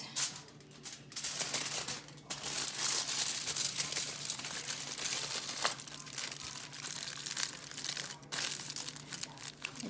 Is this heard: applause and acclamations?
no